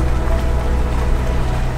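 Rain falls on a foggy day in the small town of Atlin, British Columbia, making a steady, dense hiss that stays close and even throughout.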